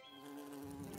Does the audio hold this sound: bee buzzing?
yes